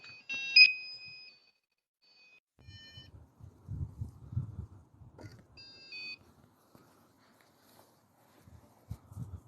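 Electronic sensor alarm used in a paranormal investigation at Sandal Castle lets out short high beeping tones at the start and again midway, with quiet low voices murmuring in between.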